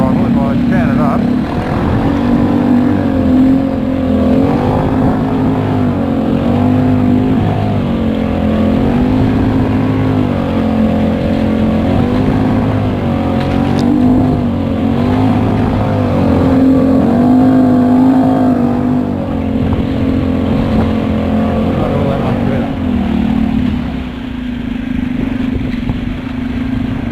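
Suzuki 2.5hp outboard motor on a Hobie kayak running near quarter throttle, a steady, close buzzing drone with slight pitch wavers, while someone talks over it.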